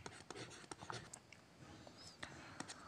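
Handwriting on paper, soft scratchy pen strokes in quick irregular bursts, faint and close, with brief quiet murmuring in between.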